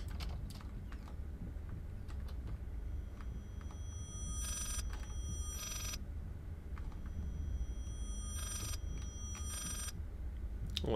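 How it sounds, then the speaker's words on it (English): A telephone rings in the horror video game Layers of Fear, with two separate bursts of bright, trilling ringing over a quiet, low background hum. "Well, that's a phone."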